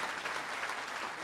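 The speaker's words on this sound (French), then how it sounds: "je vous demandais des applaudissements pour féliciter son Excellence, Monsieur le Président de la République de Côte d'Ivoire" Applause at the opening ceremony of a heads-of-state summit conference, a continuous even roll of many hands clapping in a large hall, moderately distant and unbroken for the short stretch.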